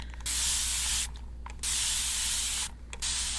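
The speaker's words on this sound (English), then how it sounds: "I'm gonna spray you with this" Three long, close hissing bursts from a spray bottle misting during a facial skincare session, each steady spray separated by short pauses.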